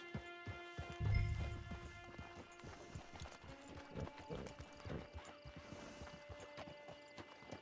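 Horse hooves clip-clop steadily in Red Dead Redemption 2 Online, a repeated rhythmic trot heard at moderate distance over game music and ambience, with one louder low thump early on and no voices.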